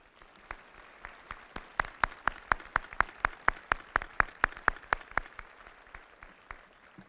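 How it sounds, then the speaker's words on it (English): Audience applause at a military change of command ceremony, an evenly paced run of sharp claps, about four per second, steady and fairly near, with no talk over it. "please join me in a round of applause for the Lanza family."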